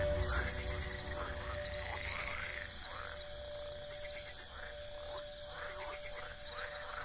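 Frogs croaking at night in woodland where a tawny owl hunts, a chorus of repeated croaks over a steady insect drone and a faint background hum.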